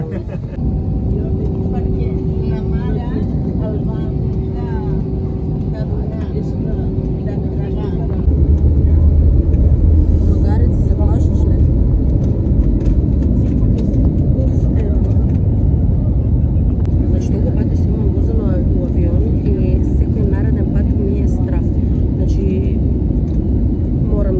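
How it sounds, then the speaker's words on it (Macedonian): Airplane taking off, heard from the cabin: a loud, steady engine roar that swells and deepens partway through as thrust builds, continuing strongly to the end, with a voice talking over it. "Тамара ме го зададе местото до прозор и полетуваме за кратко."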